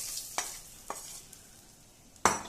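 Green chillies and curry leaves sizzle as a tempering in a pan for kosambari, with a faint frying hiss broken by a few sharp stirring scrapes, quiet and close with no talk.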